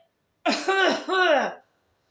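A single voiced, throaty cough-like sound, made by a person imitating a cough, short and close.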